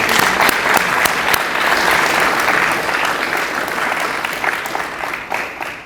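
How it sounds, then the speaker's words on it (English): Audience at a Texas leadership forum applauds, a full, even burst of crowd clapping that holds strong before tapering gently toward the end. "So round of applause to you, Sandy, for what y'all did."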